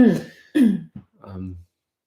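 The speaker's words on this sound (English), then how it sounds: "Sorry, I have to cough." A couple of short, throaty coughs close to the microphone, followed by a brief murmured vocal sound.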